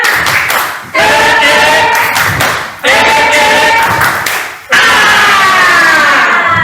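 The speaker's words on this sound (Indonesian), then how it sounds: "tepuk semangat" Indonesian teachers in a school session do a patterned spirit clap together, loud bursts of sharp clapping in set rhythmic groups, with chanting voices over it and brief pauses between sections.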